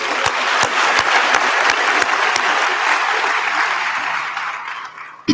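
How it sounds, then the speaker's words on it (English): Audience at a university graduation ceremony claps in sustained, dense applause with a few sharper individual claps standing out, steady and fairly loud before fading slightly at the end. "I think they deserve another round of applause."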